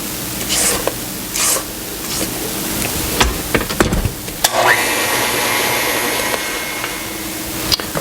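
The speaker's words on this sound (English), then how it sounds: "I'm going to scrape the sides and the beaters" An electric hand mixer whirs steadily through cookie batter for black walnut wafer cookies, the motor hum broken by brief clatters and pauses before running continuously again.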